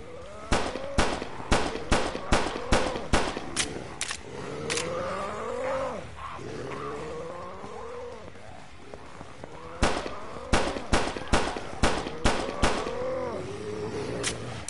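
Repeated gunfire from shooting zombies in the horror game Blood Waves, sharp regular shots in two bursts with roaring creature growls between them, fairly loud and close.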